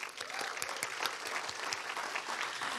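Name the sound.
audience applause at awards ceremony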